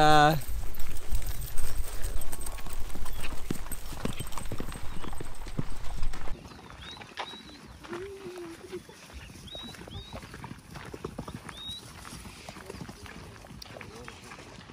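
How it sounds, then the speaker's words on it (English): A herd of horses clip-clops along a rough road in Patagonia's Torres del Paine, with many overlapping hoofbeats close by and loud at first, then thinning and quieter. A few bird chirps come through in the quieter stretch. "I don't think I've ever seen so many horses at once."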